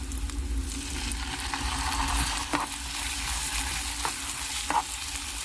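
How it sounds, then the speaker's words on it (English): Meatless meatballs tossed through a tomato-less pasta sauce in a hot pan, with a steady close sizzle and frying hiss and a few soft scraping stir clicks, and no talking. "We are tossing our meatballs in the tomato-less pasta sauce."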